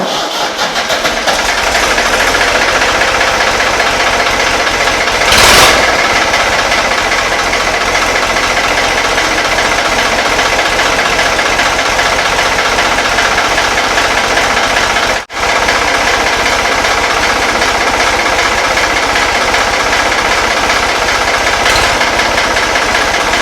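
A restored Ford 4100 tractor engine runs at a steady, loud idle with a continuous low chug. There is one brief dropout partway through, and no voices.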